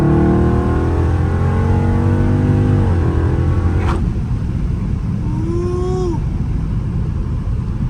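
A Dodge Charger Scat Pack revs loud and close, then accelerates hard with rising engine pitch. A gear shift comes midway, and the engine climbs again over constant road and exhaust rumble.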